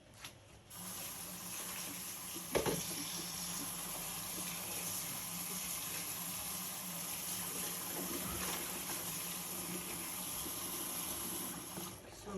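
Tap water runs steadily into a kitchen sink to soak spinach, a constant close hiss and splash that starts abruptly and holds level with one small clunk partway through, no voices.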